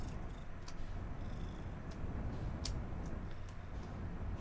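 A cat purrs right up close, a steady low rumbling drone that runs unbroken throughout, with a few faint clicks and ticks on top.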